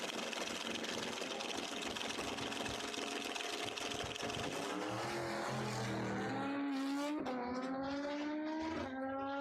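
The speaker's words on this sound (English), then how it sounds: "Going to have to watch that truck go down the racetrack for a whole second before he gets to handicap launch his bike." A truck and a motorcycle racing down a drag strip, a loud continuous engine roar that climbs steadily in pitch as the vehicles accelerate, then jumps through several rising sweeps, heard alone and without talk.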